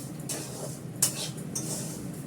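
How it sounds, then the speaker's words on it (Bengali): Semolina is stirred in a pan with a metal utensil, making soft, close scrapes and a couple of sharper clinks over a low background hiss; no voices. "এটা ভালো করে নাড়াচাড়া করবো"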